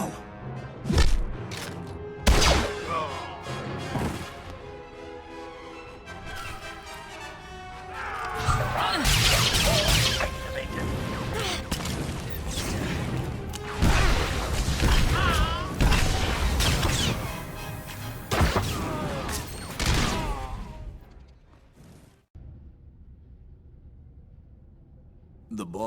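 A fight breaks out in Star Wars: The Old Republic as an Imperial Agent starts shooting, with bursts of blaster fire, impacts and whooshes layered over occasional voices and combat effects.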